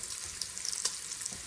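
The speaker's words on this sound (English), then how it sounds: "So we just saute it for a few minutes until it's crisp and brown." Beef chunks for boeuf bourguignon sizzle and fry in a pan, a continuous bright crackling hiss with a couple of faint stirring knocks.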